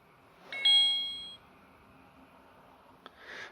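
A KKCITE 1.54-inch touchscreen smartwatch gives a bright startup beep as it powers on, a clear tonal chime lasting under a second, followed by a quiet pause, a soft click and a faint rustle.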